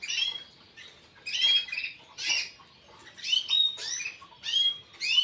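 Caged songbirds, frightened after hours on display, give short high chirps and squeaky calls in irregular bursts, fairly close and alone.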